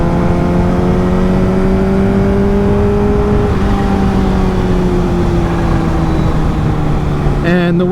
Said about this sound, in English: Wanted to get the bike out and cruise.